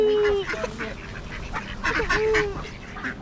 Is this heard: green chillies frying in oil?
no